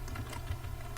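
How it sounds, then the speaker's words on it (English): Steady, soft typing on a computer keyboard during an Excel lesson, quick light key clicks running evenly for about a second over a low background hum. "Then I'm going to type in"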